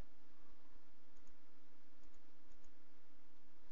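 Computer keyboard keys clicking in a few quick, faint pairs of taps against a steady background hiss.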